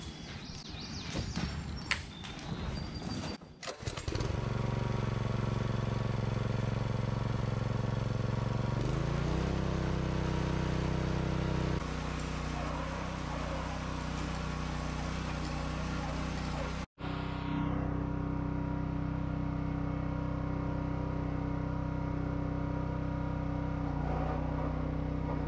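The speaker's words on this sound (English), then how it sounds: "here we go. Let's do some tilling." An Earthquake Victory rototiller engine starts up and runs steadily while tilling soil, a loud, continuous small-engine drone with shifts in load and one brief dropout partway through.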